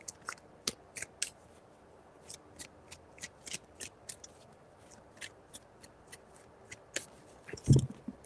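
Tarot cards being shuffled by hand in a quiet room: a run of soft, crisp riffles and taps spaced irregularly, with a louder bump near the end.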